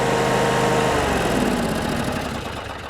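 A Cub Cadet RZTS riding mower engine runs steadily at a fast idle to warm its oil, a close, even drone that eases off slightly toward the end.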